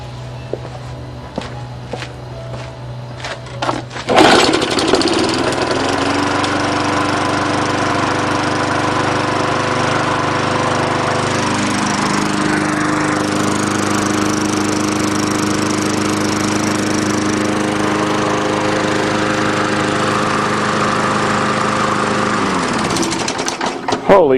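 Petrol push lawn mower engine cranking a few times after priming, then catching and running steadily at a loud, even idle close by, with small knocks and clatter before it starts.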